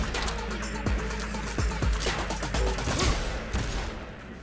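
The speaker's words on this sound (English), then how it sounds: "so I ran with a revolver for most encounters" Rapid revolver shots in the video game Cyberpunk 2077 ring out in quick succession over a droning game soundscape, loud and close with a sharp crack on each round.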